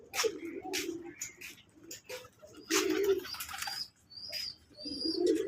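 Native domestic pigeons at a pigeon farm coo in repeated low, throaty phrases close by, with occasional chirps and tweets from other birds over a busy background of flock noise.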